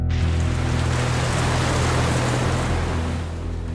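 Ocean water rushes and churns loudly around a drifting boat with no engine or sail, making a dense, continuous roar of surf that eases slightly toward the end.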